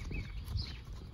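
A horse moving in a round pen, its hooves thudding in dull, soft clip-clops on the ground at close range over about a second, with no voices.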